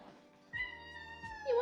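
A cat that wandered inside from the garden meows loudly and repeatedly, close up, with drawn-out, rising cries and no talking over them.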